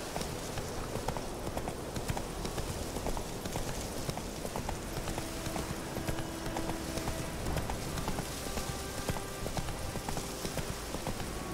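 The horse Roach galloping in The Witcher 3, a steady rapid drum of hoofbeats that runs the whole stretch over dense outdoor ambience, with no voices.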